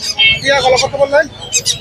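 A parrot gives a few harsh, raspy squawks and chirpy calls, close by at the Mirpur 1 bird market, with human voices mixed in.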